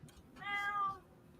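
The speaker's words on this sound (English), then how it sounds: "Oh, y'all can hear that? No, that's my cat." A house cat gives a single clear meow, moderately close but soft, in an otherwise quiet room with no talking.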